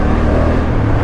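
Honda Africa Twin CRF1100 motorcycle (2024) engine revving on a mild dirt track, a loud, close, continuous low engine drone with a steady throbbing rumble.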